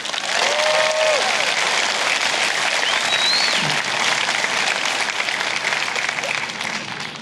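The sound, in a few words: applause at a high school graduation ceremony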